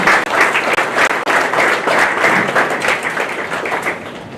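A baseball finalist luncheon audience gives a dense, loud round of applause that continues steadily. The clapping tapers slightly toward the end, with no speech over it.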